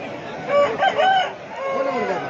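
At an open poultry market, chickens including a heavy, double-bodied Tamil Nadu breed hen give close, loud crowing and clucking calls in a few bursts.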